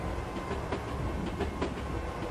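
Simulated train running in the Mechanik train simulator game, a steady rumble with faint rhythmic clicks from the rails, heard alone and continuous over a short stretch.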